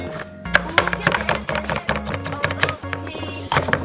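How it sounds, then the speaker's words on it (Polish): Onion being finely chopped in a home kitchen, a rapid run of close knife strikes against a cutting board, played alongside background music. "No, więc kroimy cebulkę."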